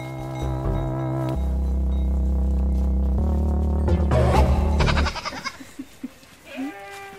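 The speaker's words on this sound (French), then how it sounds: "Céline Berthier, elle élève des chèvres avec son associé" Goats bleat loudly and steadily over a droning tone on a farm, then a few shorter bleats and rustling noises follow more quietly.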